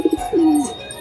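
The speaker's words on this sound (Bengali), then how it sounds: "ভালো মানের পায়রা আছে এই দুটোই।" A domestic pigeon coos close by: a couple of short soft notes followed by one longer drawn-out coo, all within a second.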